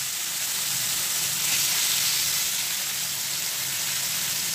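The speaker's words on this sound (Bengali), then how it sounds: "এবারে তেলও গরম হয়ে গেছে, আমি মাছটাকে ভেজে নেব।" Fish fries in hot oil over a low flame, giving a soft, even, continuous sizzle with no talking.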